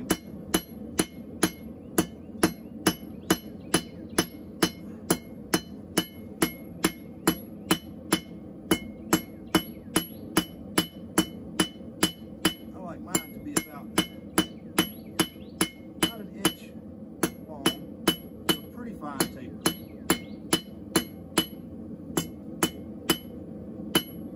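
Hammer forging a taper on hot steel for a Dutch oven spoon: steady, loud, evenly spaced ringing blows on the anvil, roughly two per second, continuing throughout with no talking.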